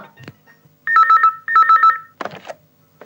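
A telephone rings in two distinct trilling bursts, loud and close, with brief rustling and a faint voice around them.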